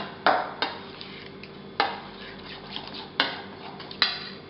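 A spoon stirs sauce in a bowl, giving a few sharp clinks and taps against the side at irregular intervals between quiet scraping, close and fairly soft, with no talking.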